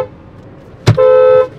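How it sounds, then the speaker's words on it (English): A single car horn blast, loud and close, sounds after a brief thud, holding steady for about half a second over quiet background noise. "Should I give him a honk?"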